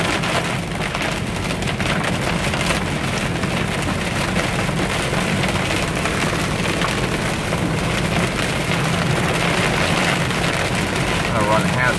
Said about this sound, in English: This is a storm. Goodness gracious. Might be some hail.